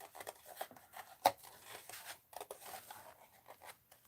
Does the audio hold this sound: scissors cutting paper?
yes